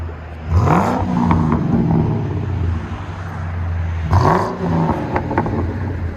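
A 2004 Ford Crown Victoria with a 4.6L V8 and SLP Loudmouth true dual exhaust revs hard twice, each sharp climb dropping back to a deep, loud idle rumble between blips.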